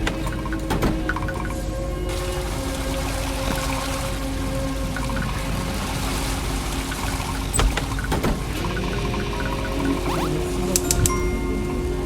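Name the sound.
taps running hot water in a Roblox video game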